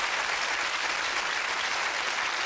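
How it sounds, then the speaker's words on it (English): A television game-show studio audience claps steadily and loudly for the full stretch, a dense, even applause with no talk over it. "Give him a big round of applause."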